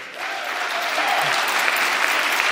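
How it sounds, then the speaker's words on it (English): A live audience in Calgary breaks into applause, clapping swelling quickly and holding strong and steady, with a voice briefly heard near the start. "that gets a round of applause from your audience in Calgary"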